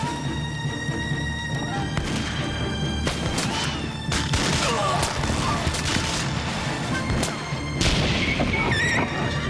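A volley of ship's cannon fire in a naval battle scene, sharp crashing blasts and booms in repeated bursts over a dense, noisy battle bed, with shouted voices mixed in.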